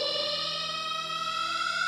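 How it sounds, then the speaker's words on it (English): An alarm siren in the naval video game From the Depths, a steady, quiet, sustained electronic tone with layered harmonics holding without a break for about two seconds. "The siren sounds."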